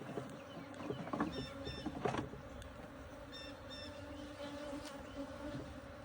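Bees buzz steadily around an aggressive hive in a farm apiary, a dense continuous drone of many insects close by, with a few louder passes of individual bees near the microphone.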